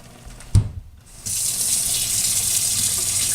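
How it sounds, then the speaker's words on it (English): Kitchen sink tap turned on to run warm water into a cup: a clunk from the tap, a brief pause, then a steady hissing stream of water that continues close and moderately loud. "put warm water in it"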